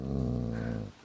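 A low, sustained dog growl from a hunting dog in the video game A Plague Tale: Innocence, with a wild boar nearby, rumbling steadily and close for about a second before cutting off abruptly.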